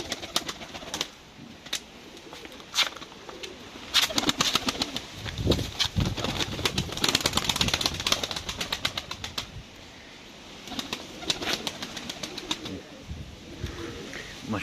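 Pigeons in a cellar loft give soft cooing calls mixed with bursts of wing flapping and fluttering, close by and continuous, with no talking.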